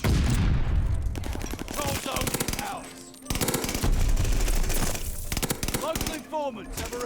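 Rapid automatic bursts from an AS44 rifle in Call of Duty: Vanguard crackle loudly and close, with a brief pause midway, while a player talks over the firing.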